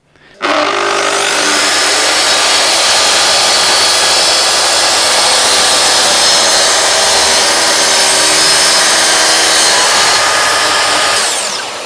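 A Festool track saw rips through wood along an 800 mm track. A loud, steady, close whine starts abruptly, holds for about eleven seconds, and cuts off at the end, with no voices.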